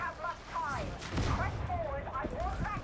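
Rapid ranged gunfire from a Voidstrike Psyker build in the game Darktide, shooting down a mauler, with dense bursts of shots over game sound and tonal effects throughout.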